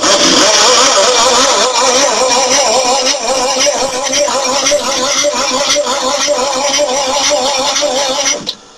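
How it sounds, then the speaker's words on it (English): A car engine with pistons slightly missing revs hard and steadily, a loud, rough, wavering drone that holds for several seconds before abruptly cutting off near the end. "Oh, she's tight. I feel kind of bad doing this to an engine."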